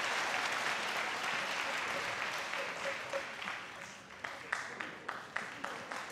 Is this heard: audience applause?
yes